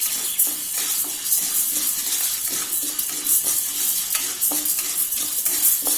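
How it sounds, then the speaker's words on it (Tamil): Lentils dry-roasting in a pan for idli podi are stirred continuously, giving a steady scraping, rustling sizzle with light spoon knocks against the pan, close and fairly loud, with no talking. "இதையும் நல்லா கோல்டன் ப்ரௌன் ஆகிற வரைக்கும் கைவிடாமல் கிளறி விட்டுட்டே இருங்க"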